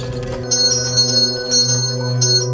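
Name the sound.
reception desk call bell ringing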